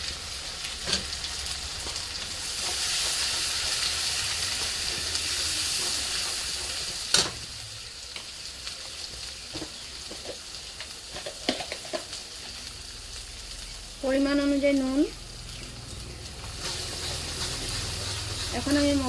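Ground cumin, coriander and turmeric sizzling and being stirred in a pan, a steady soft frying hiss with occasional scrapes and clinks, at moderate level under a quiet background.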